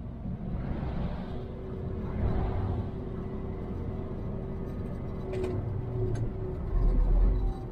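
Road vehicles roll past slowly near a roundabout, a steady low engine rumble heard from inside a truck cab, with a heavier pass swelling up near the end.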